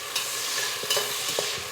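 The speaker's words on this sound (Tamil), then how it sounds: "வெங்காயம் தக்காளி சேர்த்துட்டு நல்லா அதை கலந்து விட்டுடலாம்" Onions and tomatoes stirred as they fry in oil in a cooker, a steady sizzle broken by a few soft scraping strokes of a spoon, close and moderately loud with no talking.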